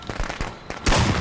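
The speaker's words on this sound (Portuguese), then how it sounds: "Olha o cara metendo bala em mim, cara." Gunfire in the horror video game Friday the 13th: The Game: a few sharp cracks followed by one loud, close blast with a ringing tail, no speech over it.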